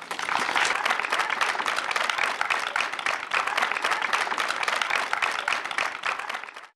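An audience at an indoor school gathering claps for a teacher, a dense, steady wash of many hands applauding at close range for several seconds before fading out abruptly at the end.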